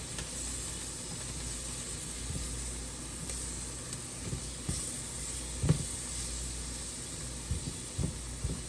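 Onions with red and hot peppers sizzle steadily in a pan, a continuous close hiss with small pops and crackles and no talking over it.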